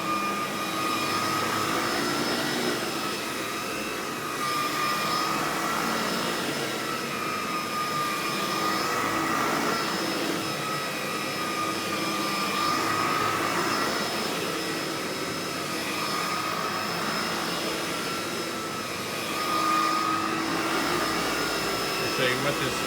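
An Electrolux Epic 3500 SR upright vacuum cleaner runs continuously, a steady loud motor whine with a high tonal hum that rises and falls slightly in pitch as it is pushed back and forth.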